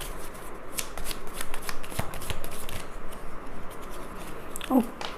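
Tarot cards are shuffled by hand, a close, continuous riffling flutter with rapid soft slaps and a brief clatter near the end.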